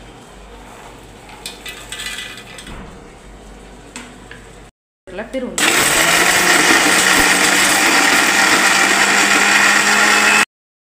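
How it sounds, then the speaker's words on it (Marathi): A mixer grinder grinds roasted ingredients and peanuts for a dry drumstick vegetable dish. Quiet kitchen clatter comes first, then a brief pause, then a loud, steady motor whir for about five seconds that stops abruptly. "हे सगळं भाजलेलं आणि शेंगदाणे वाटून घेऊ मिक्सरमधून."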